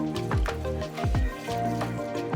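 A thick batter of chopped taro leaves, gram flour and water is stirred by hand, producing repeated wet squelching swishes in an uneven rhythm, close and moderately loud, with no talking.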